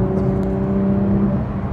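Porsche GT3 RS engine holding steady around 4000 rpm, a loud continuous metallic drone with strong low harmonics, close and alone without talk.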